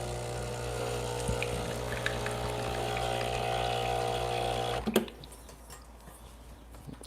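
A HOMEVER 4-in-1 coffee maker pumps water to flush a shot glass, a steady loud mechanical hum and drone that cuts off abruptly, leaving faint drips and clatter.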